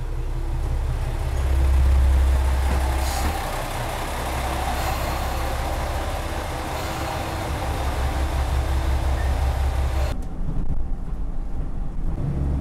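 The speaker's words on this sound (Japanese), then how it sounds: "乗る列車が来ました。" A train pulls into a station in Kochi on Shikoku, Japan, with a deep, steady engine rumble that swells near the start and holds before cutting off abruptly toward the end. No voices are heard.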